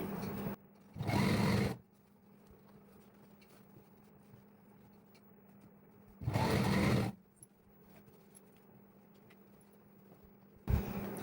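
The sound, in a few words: sewing machine stitching lehenga fabric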